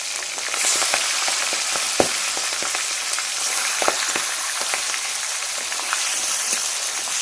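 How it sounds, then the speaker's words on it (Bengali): Pabda fish frying in hot mustard oil on a stove, a steady dense sizzle with crackles and occasional sharp spits, close and loud, no talking. "এবার আমরা পাবদা মাছগুলো একে একে দিয়ে দেব"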